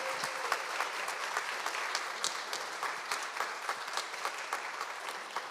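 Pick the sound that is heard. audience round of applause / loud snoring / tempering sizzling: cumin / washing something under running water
audience round of applause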